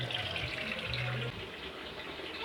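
Water runs steadily from a kitchen sink tap after a plumbing coupling repair, a continuous close hiss with no talk.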